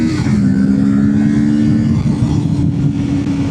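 A loud, sustained engine drone with wind rush, holding a steady pitch as a Kawasaki Ninja 650 motorcycle cruises at speed on a highway.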